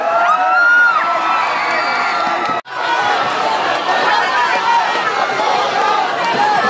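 An audience at an intern farewell event for Batch 2018 claps and cheers in a dense, loud burst that drops off sharply for a moment before the crowd noise picks up again. Whoops and voices run throughout.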